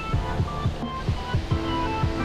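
Overflow from Sasoi dam, Jamnagar, pours steadily over the top in an unbroken, fairly loud wash of water noise, with repeated low rumbling pulses underneath and no talk.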